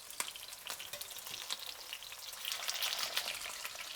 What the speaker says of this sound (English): So the oil is smoking hot. Put in our shrimp patties.